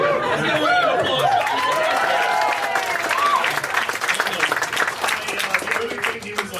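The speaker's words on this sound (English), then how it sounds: "Let's get a round of applause." A live comedy audience breaks into loud applause mixed with laughter and crowd chatter, a dense wash of clapping that holds steady and then thins into scattered claps and murmuring.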